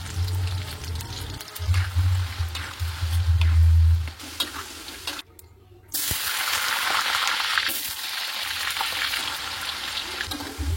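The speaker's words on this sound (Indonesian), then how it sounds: "Goreng kentangnya ini pakai minyak panas dan api sedang cenderung kecil" Potatoes fry in hot oil over medium-low heat for soto Betawi, a steady close sizzle with bursts of stirring and scraping, briefly dropping away before the crackling returns loudly.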